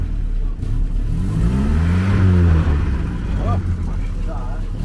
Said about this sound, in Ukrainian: А ну дай газу